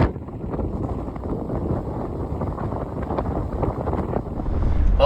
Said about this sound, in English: when the wind blows hard enough